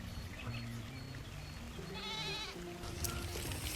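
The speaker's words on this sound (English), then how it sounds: "The goat began to pull the cart," A goat bleats several times, wavering and fairly close, while pulling a cart across grass, with soft outdoor background noise throughout.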